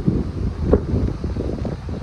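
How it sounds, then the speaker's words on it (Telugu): Strong wind blows outdoors in the UK as autumn leaves fall, a loud rumbling gusting roar buffeting the microphone with no talk. "గాలి సౌండ్ వస్తుండొచ్చు మీకు"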